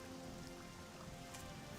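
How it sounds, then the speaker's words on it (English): Steady rainfall in the game Morrowind, a dense even patter with scattered droplet hits, continuous and fairly close throughout with no voices. "It's still raining."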